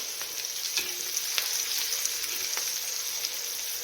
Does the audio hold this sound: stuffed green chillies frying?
yes